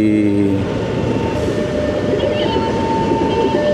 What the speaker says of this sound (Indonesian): Oh, ada kereta api lewat lagi.